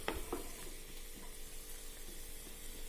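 Tomatoes sauté in a pan for potato curry, a quiet, steady sizzle with a few soft stirring knocks near the start, no talking.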